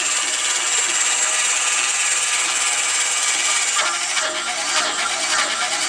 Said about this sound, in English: The Velcro strap sets your trigger on your drill, and you're ready to start boring.